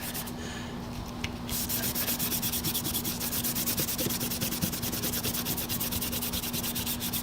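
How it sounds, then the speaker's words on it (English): Steady abrasive scrubbing of a Scotch-Brite pad over corroded BMC No. 9 locking pliers, a continuous close rasping rub that starts softly and runs evenly to the end, with no talk. "Use a little Scotch-Brite on it to get rid of some of the corrosion on the outside."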